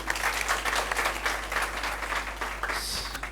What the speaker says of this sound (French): d'applaudir fortement les deux lycées par rapport à leurs prestations